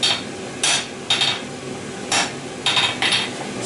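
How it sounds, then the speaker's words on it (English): Hammer blows land on hot steel as a wedge is forged into a screwdriver-like taper, giving about seven ringing metallic strikes at an irregular pace, close and fairly loud, with no talking. "my hard and light blows to get kind of a screwdriver taper"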